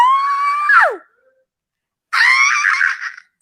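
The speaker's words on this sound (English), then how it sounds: "That's why I'm screaming." A person screams loudly in two long, strained bursts, the first ending in a falling wail, then a second sustained scream after a short silence.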